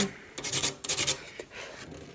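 Sandpaper rubs over painted fall decor to distress the finish: a few short, raspy scrubbing strokes up close, separated by quiet pauses, with no talking.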